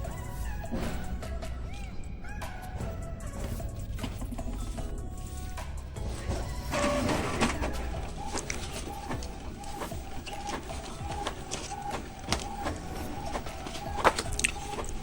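An Epson L1300 inkjet printer runs a mass print of invitation blanks, giving a soft, steady mechanical whir with small clicks and shuttling sounds throughout, fairly quiet.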